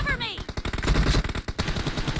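Rapid automatic gunfire in the video game PUBG crackles in dense bursts, with a short rising tone at the start, while people talk faintly underneath.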